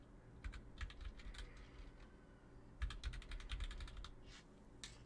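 Rapid keystrokes on a computer keyboard as text is entered, arriving in two quick bursts separated by a short pause, close and fairly quiet.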